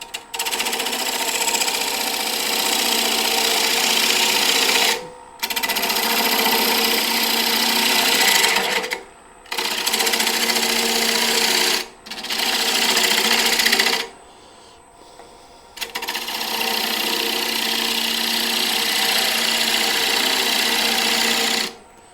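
A 1/2 inch bowl gouge with a 3/8 inch flute cutting a wood bowl foot on a lathe, heard as loud, steady buzzing cutting passes broken by several short pauses between cuts.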